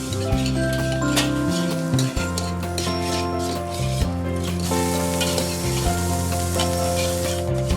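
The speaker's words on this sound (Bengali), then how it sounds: "এরপর কাটা মাশরুমগুলো দিয়ে আরও ভাজতে থাকবো" Chopped mushrooms fry in a hot wok, giving a loud continuous sizzle close up with scraping stir strokes throughout.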